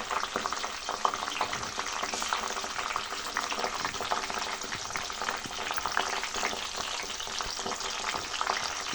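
Curry leaves and fenugreek seeds frying in hot oil give a steady, dense sizzle with constant crackling and spitting, close and continuous throughout, with no voices.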